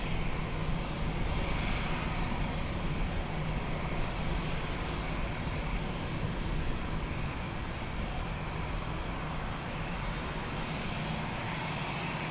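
An airplane on short final to runway 02 at Lisbon Airport roars steadily and loudly for the whole stretch, a broad continuous engine drone with no voices over it.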